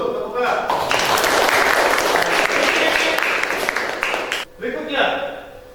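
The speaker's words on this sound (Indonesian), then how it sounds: "Tepukan." Students in a classroom giving a short round of applause, loud dense clapping that fades out after about four seconds, followed by a teacher speaking.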